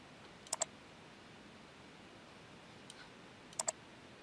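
Computer mouse button clicking in a quiet room, two quick double clicks a few seconds apart with one faint single click between them, close and crisp with no talking.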